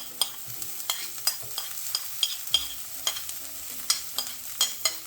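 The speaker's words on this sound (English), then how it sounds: "Now I add the next tough ingredient, which is going to be the onions." Onions sizzling in a pan with lemongrass and ginger, stirred with a utensil that makes regular sharp clinks and scrapes over a steady, fairly quiet frying hiss.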